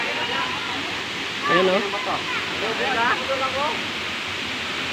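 Inambakan Falls in Ginatilan, Cebu, a small waterfall giving a constant broad rushing hiss, steady and close, with a person speaking briefly over it.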